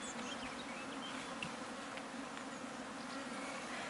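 Honey bees buzz steadily at an open hive during an inspection, a dense, continuous drone close by with no talking over it.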